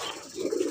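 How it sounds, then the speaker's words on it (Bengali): A racer pigeon gives a short, low coo close by. The call is brief and rises near its end, with no talking. "রেসার কবুতর মাশাআল্লাহ"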